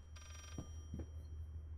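Telephone ringing in the horror video game Layers of Fear, a quiet electronic ring with two short bursts against a low steady hum.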